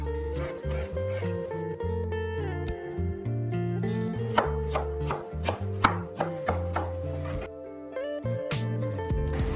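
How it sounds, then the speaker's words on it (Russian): Green onion and dill being finely chopped with a knife on a board, a quick run of crisp taps near the end over steady background music, no talking. "Мелко порежу зеленый лук и укроп."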